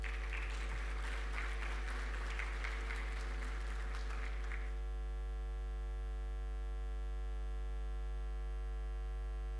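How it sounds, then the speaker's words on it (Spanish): Audience applause at a talk on distribution reform and smart grids, a broad wash of clapping for about four and a half seconds that then stops, leaving a steady electrical hum running throughout. "Recibamos entonces con un fuerte aplauso a Daniel Olivares."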